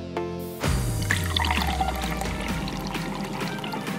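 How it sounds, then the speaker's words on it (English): Liquid pours from a golden teapot into a glass, a continuous close splashing stream that starts abruptly after a short tonal intro and fills steadily for several seconds. "I'll just give this a pour!"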